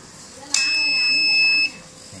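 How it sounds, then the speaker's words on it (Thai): A turbo timer in a car gives a single steady electronic warning beep lasting about a second as the ignition key is turned, over low background hum. "กุญแจปุ๊บจะมีเสียงเตือนดังขึ้นมาพร้อมกับวัดโวลต์ในตัว"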